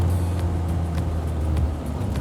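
A Lotus sports car's engine drones steadily and loudly from inside the moving car, a low continuous hum with faint road noise and no talking.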